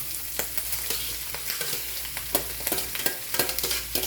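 Pork offal for dinuguan stir-fried in a hot pan, a steady close sizzle broken by repeated scraping and clacking of a utensil against the pan, with no talking.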